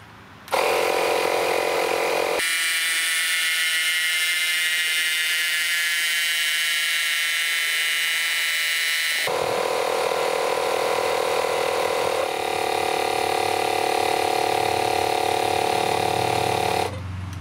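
Makita 18V and 12V cordless inflators pumping air together, a steady loud mechanical whir with a whining tonal hum, shifting pitch as one unit cuts in and out mid-run.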